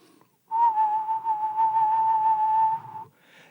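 A single steady whistled note held for about two and a half seconds, clear and close, with no talk around it.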